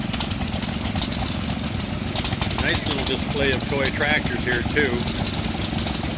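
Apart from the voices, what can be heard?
small stationary engine running a water pump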